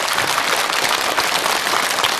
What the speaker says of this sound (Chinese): 来，我们再给老人一点掌声